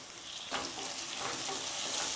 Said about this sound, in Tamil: இப்போ தக்காளி சேர்த்து நல்லா வதக்கி விட்டுருங்க